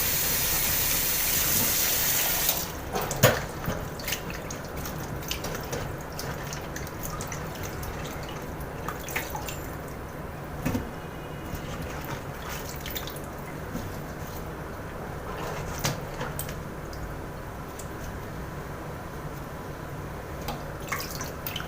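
Water runs steadily over a large batch of cauliflower in a home kitchen, a continuous close splashing and trickling stream with occasional louder drips and knocks, no talking.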